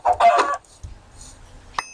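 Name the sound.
chickens clucking in the video game Minecraft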